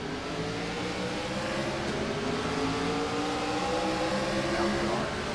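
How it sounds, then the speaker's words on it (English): A NASCAR Gen 4 race car engine in the iRacing game roars steadily while accelerating off a green-flag start, a dense continuous drone with rising engine tones and no speech. "Didn't like how loud that engine got to our side."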